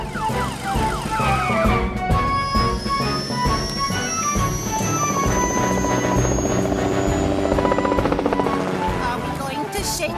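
A helicopter flies in a Fireman Sam cartoon, its rotor chopping steadily under a rising whistling tone and music, loud and continuous throughout.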